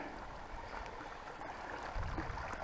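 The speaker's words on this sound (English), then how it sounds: "I could hear the water." Mountain stream water flowing steadily near a backcountry campsite, a soft continuous wash and gurgle heard from a short distance with no voices.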